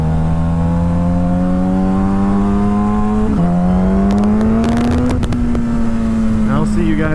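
A Honda Grom motorcycle accelerates hard, its small engine whining steadily higher through a gear change, loud and close with a rising pitch, wind noise and a voice partly over it.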